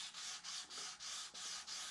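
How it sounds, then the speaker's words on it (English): Wet color sanding of a painted finish, with soft, rhythmic scrubbing strokes repeating about six times in quick, even back-and-forth passes, faint and close. "It's color sanding, so we're sanding down that"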